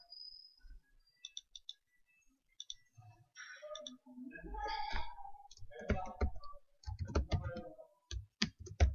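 Computer mouse clicks while changing settings in the Eclipse editor, a few sharp, close clicks scattered under a person talking.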